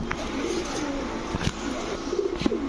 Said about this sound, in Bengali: এগুলো হচ্ছে লং ডিস্টেন্সের বেলজিয়াম ব্লাডের কবুতর